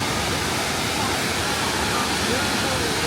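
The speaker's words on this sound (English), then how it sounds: "try and get a better look at the waterfalls." Waterfalls near Mostar in Herzegovina give a dense, steady roar of falling water that fills the whole stretch evenly, loud and constant with no breaks.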